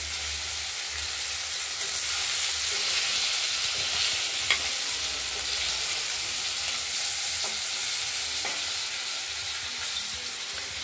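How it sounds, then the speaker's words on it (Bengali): Fish frying in a pan, a steady crackling sizzle with occasional sharper pops over a soft hiss, close and continuous. "আরেক পিঠ ভাজা হোক, তারপর নামাবো"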